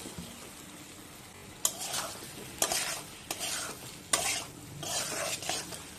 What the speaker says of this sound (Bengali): এখন আমি ভেজে রাখা মাশরুম আর আলুগুলো একসঙ্গে দিয়ে দেব